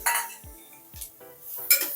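Green peas are stirred into hot oil in a metal pan for a green pulao. A few sharp clinks and scrapes of the spoon against the pan ring out between quieter pauses.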